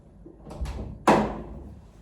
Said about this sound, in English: I heard the doorknob move